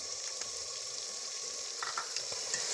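Steady, close sizzling of chicken, onions, and ginger-garlic paste frying in a hot pan, with occasional light clinks and stirring scrapes over the hiss.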